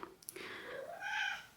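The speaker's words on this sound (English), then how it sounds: "Yeah, and a chatty cat." A pet cat lets out a single drawn-out meow in a quiet craft room, rising in pitch and held for about a second, with faint clicks before it.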